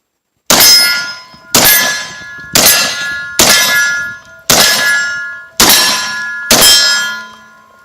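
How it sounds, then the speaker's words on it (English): Seven loud, evenly spaced blasts from a Mossberg 930 SPX shotgun fired in quick succession from a compromised shooting position, each followed by a bright metallic clang that rings and decays before the next shot, with no talking. "So we'll see what this shotgun does in a compromised shooting position."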